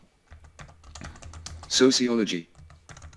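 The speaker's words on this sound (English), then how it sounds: "So let's type in that sentence again." Someone types a sentence on a computer keyboard: quick, irregular close key clicks, with a synthetic text-to-speech voice briefly reading a word over the typing.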